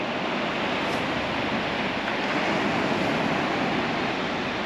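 Ocean waves at Huntington Beach State Park in Murrells Inlet, South Carolina, a continuous broad wash of surf with steady wind noise, loud and unbroken with no talking.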